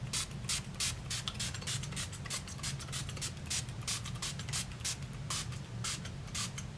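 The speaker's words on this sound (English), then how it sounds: "I'm just going to be spraying that literally all over my face" Setting spray from a small mister is spritzed onto a face in a long run of quick, even hissing bursts, close and fairly quiet, with a low background hum and no speech.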